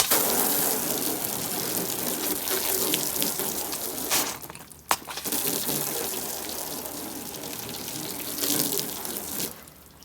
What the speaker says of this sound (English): we're just going to spray it down with the hose